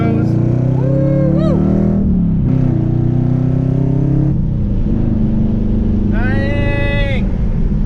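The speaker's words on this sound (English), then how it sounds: "Ripping gears in the freaking Challenger, baby" Dodge Challenger V8 engine revving hard and pulling through several gears, loud and close with rising pitch sweeps between shifts, heard from inside the car.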